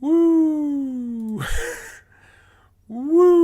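A single voice imitates an ambulance siren with a loud, rising and falling wail, breaking into a brief noisy burst, then a short pause before the wail resumes.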